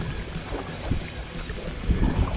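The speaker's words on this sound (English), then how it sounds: "now I'm hitting another headwind" A light headwind blows against a kayak on open water, a steady broadband rush of wind buffeting the microphone with soft low thumps of water and hull, continuous and close, with no talking.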